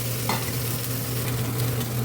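Beef and garlic stir-fry in avocado oil with a close, continuous sizzle, a low steady hum beneath, and a couple of brief scraping stirs of the spatula.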